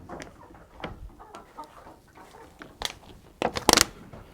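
Point-of-lay laying hens on a farm give scattered soft clucks and a few louder, sharper squawks toward the end, heard nearby with no talk.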